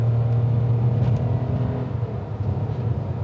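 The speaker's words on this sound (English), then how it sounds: "it does have a tendency to hold on to the revs a bit, which sounds a little intrusive" A Toyota Aygo X city car with a CVT automatic gearbox holds its engine revs, giving a steady, intrusive droning hum heard from inside the cabin, sustained and fairly loud with no talking.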